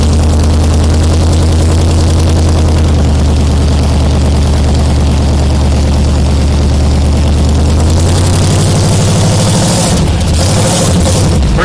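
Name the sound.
vintage car engine idling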